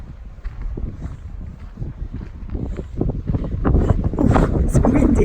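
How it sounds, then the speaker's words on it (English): Wind blows off the snow from nearby mountains at an outdoor spot, a steady buffeting rumble on the microphone that grows stronger toward the end, continuous throughout. "Ooh, it's windy"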